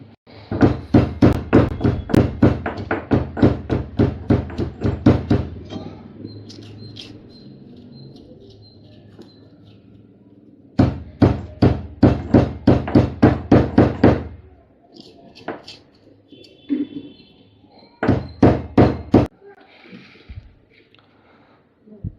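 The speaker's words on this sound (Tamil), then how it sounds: "ஸோ நம்ம எல்லாத்தையும் போட்டு நம்ம பண்ணிக்கலாம், இடித்து எடுத்துக்கலாம்." Coriander, green chili, mint, cumin, ginger and curry leaves are pounded for spiced buttermilk in three bursts of rapid, even, close knocks separated by pauses, with faint bird chirps in the background.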